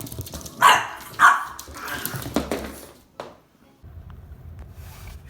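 An older dog barks at a younger dog that wants to play. Two sharp, loud barks come close together near the microphone, followed by quieter shuffling and room noise.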